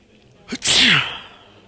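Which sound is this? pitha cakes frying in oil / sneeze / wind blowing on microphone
sneeze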